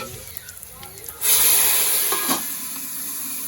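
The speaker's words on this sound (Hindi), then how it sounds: "मिर्ची जी साबुत मैंने डाल दिए हैं, बम की तरह फट रही है।" Whole chilies hit hot oil in a home kitchen and burst into a loud, sustained hiss and spluttering sizzle after a quieter stretch, with a sharper pop partway through.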